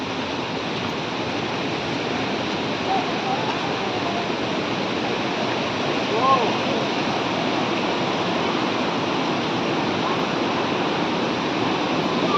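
Bamni Falls sends up a continuous, even roar of falling water, heard from above the falls as a steady rushing wash that never lets up over twelve seconds, with no voices.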